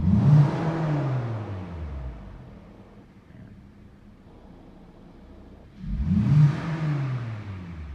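A Hyundai Sonata engine, just cleared of a knock-sensor fault, revs up twice, each burst climbing then falling away, separated by a steady idle; loud and close with no voices.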